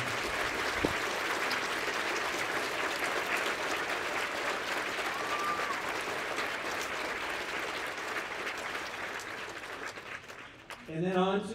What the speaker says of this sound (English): Please join me in a round of applause for Crystal and the entire team.